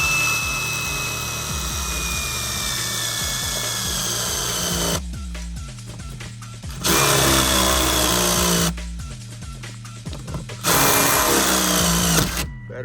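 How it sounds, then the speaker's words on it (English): A cordless power drill whirs loudly and close while boring holes through a van roof for a roof fan, running in several sustained bursts separated by brief pauses, its pitch sagging as the battery weakens. "I'm going to put drill a hole in each corner."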